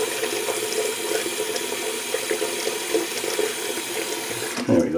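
Tap water runs steadily into a bathroom sink, a continuous rushing splash that fills the whole stretch at close range before cutting off near the end, with no talking over it.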